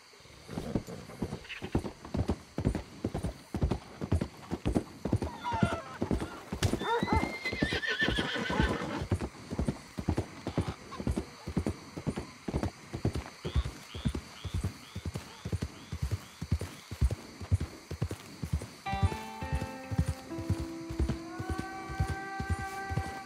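In Red Dead Redemption 2, rhythmic clip-clop of horse hooves runs throughout, with a loud neigh partway through and a synthetic musical jingle near the end.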